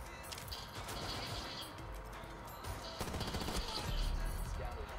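Rapid automatic gunfire from a PDW in Rainbow Six Siege, emptied in one sustained burst into a door, dense and loud with crashing impacts throughout.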